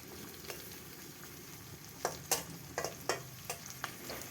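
Onions frying in a pan as the base for a Bengali crab curry, a soft steady sizzle with a few sharper crackles and stirring clicks in the second half, close and fairly quiet.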